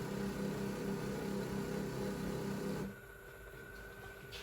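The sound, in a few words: Nespresso Barista Recipe Maker frothing on hot foam setting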